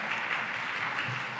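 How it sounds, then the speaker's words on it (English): Brief, faint audience applause at a COP26 ministerial dialogue on climate finance, a steady wash of clapping with no distinct voices. "That definitely deserves a round of applause."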